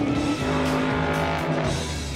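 A car on a race track runs a track test of an engine using Quaker State oil, giving a loud, sustained engine roar with shifting pitch as it passes close by.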